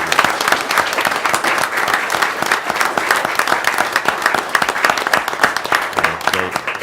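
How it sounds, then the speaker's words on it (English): Sustained applause from an audience at a town board of commissioners meeting honoring nominated employees, dense steady clapping that continues evenly for several seconds. "let's have another round of applause for all of those folks who were nominated"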